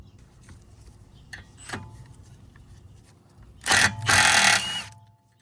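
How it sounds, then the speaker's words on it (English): A power tool removes a T45 screw from the front brake rotor of a 2017 Tesla Model S 75D. Faint clicks come first, then two loud buzzing bursts of the tool near the end. "we have a T45 screw we need to remove"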